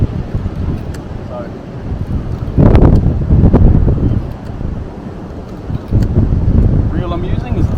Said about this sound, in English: The wind's probably about 20 knots.